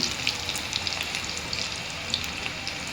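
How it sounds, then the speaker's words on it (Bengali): Sliced onions sizzle and crackle steadily in hot oil for a chicken curry, with a dense continuous fry hiss and scattered pops throughout, close and fairly loud with no talking. "এবার গরম তেলে দিয়ে দিয়েছি পেঁয়াজগুলো লাল লাল করে ভাজবো।"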